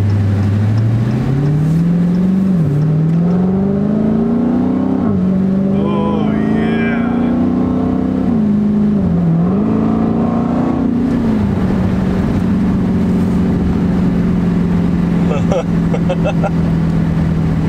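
A Dodge Hellcat's engine roars loud and close while driving, its pitch climbing and dropping through several rev surges before settling into a steady drone, with occasional voices inside the car.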